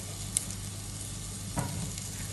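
Cashews frying in a pan with ginger garlic paste and Kashmiri chili, for butter chicken, give a soft steady sizzle with a couple of faint stirring scrapes, heard up close and alone.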